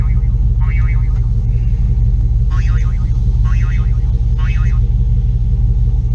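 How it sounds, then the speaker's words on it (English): A turbo LS-swapped C10 truck idling loudly and close, its loose exhaust with a flex pipe rattling against the frame in a steady low rumble, with brief higher tones coming and going above it. "it's rattling against the frame. You guys might be able to hear that in the video."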